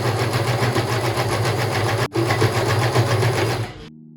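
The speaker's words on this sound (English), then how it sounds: "So I'm going to be sewing them and I'm going to be top stitching them the way I did this side." A sewing machine stitches darts on an upcycled denim jean top in a loud, fast, steady mechanical hum with a momentary break partway through, then winds down and stops just before the end.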